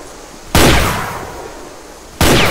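Shotgun blasts in the DOOM remake on PC: two loud, sharp booms, each trailing into a long rumbling decay, the first near the start and the second near the end.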